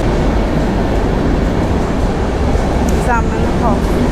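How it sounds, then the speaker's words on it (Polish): A train pulls into a platform at a large central railway station, a loud continuous rumble of rolling wagons with faint squeals of wheels or brakes near the end. "Tu widzimy pod prąd wjechał pociąg."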